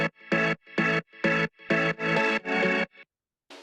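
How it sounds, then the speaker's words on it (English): Layered pianos and organs for the second part of a house remix drop, played as punchy rhythmic chord stabs, about seven in a choppy pattern, loud and alone, with a short pause near the end. "these two pianos and organs just to kind of make it a little more interesting for the second part of the drop"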